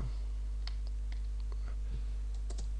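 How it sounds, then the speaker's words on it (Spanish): Quiet, sparse keyboard taps and mouse clicks while working in SketchUp, over a steady low electrical hum, a handful of light clicks spread irregularly. "Tecleo, clico aquí"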